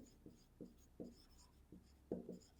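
Pen writing on paper while working out coordinate geometry answers: soft, faint scratchy strokes in short repeated bursts, close up and alone.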